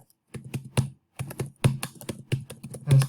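Typing on a computer keyboard while editing a document in Microsoft Word, a short burst of close, crisp key taps in quick uneven clusters with a brief pause between them.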